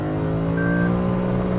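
A 2021 Lexus RC F Track Edition's engine blipping on a downshift, a loud, steady close-up engine drone with tonal harmonics and no talk.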